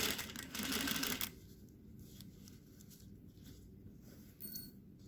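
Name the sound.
sewing machine stitching a French dart in fabric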